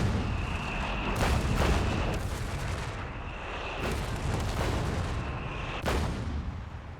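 Scots artillery barrage in the Company of Heroes 3 strategy game, with repeated heavy shell blasts arriving in uneven bursts over a constant rumbling battle din, loud and close.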